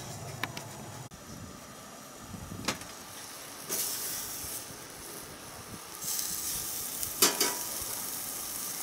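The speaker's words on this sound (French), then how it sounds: "C'est parti, on va saisir." Food searing on a hot Pit Boss portable charcoal barbecue at about 240 degrees, a close steady hiss and sizzle that swells in bursts, with a few clicks and scrapes.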